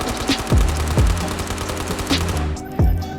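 Rapid automatic gunfire from a rifle in the VR game Ghosts of Tabor, with the recoil held down. It comes as close, loud bursts of cracking shots, a few sharper booms standing out, and ends abruptly.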